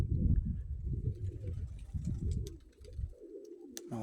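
Pigeons coo in a loft, their soft, low, throaty calls overlapping and repeating at close range, with a few faint rustles and taps in the background.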